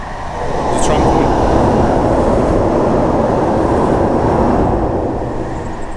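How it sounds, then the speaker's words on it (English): A tram approaches on the line near the Upper River Mersey, a loud, steady broadband rumble that swells in and holds close, with a brief high screech early on as it nears. "The tram coming."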